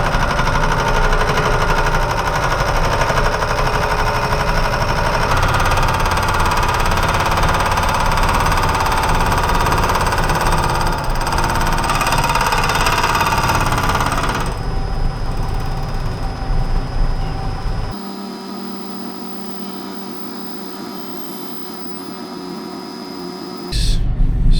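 A milling machine takes light cutting passes on century-old train track steel being shaped into a jeweler's anvil, a loud continuous grinding whine that shifts tone midway, then drops to a quieter motor hum before a final burst.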